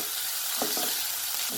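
Curry leaves sizzle steadily in hot oil with sautéed onions for a ridge gourd masala, a continuous close frying hiss with a few soft stirring scrapes and no talk.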